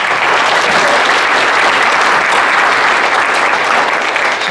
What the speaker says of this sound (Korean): 박수 더 크게 치세요.